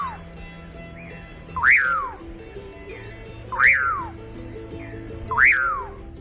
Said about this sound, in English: Here's a typical Puyer song of a male common paraque.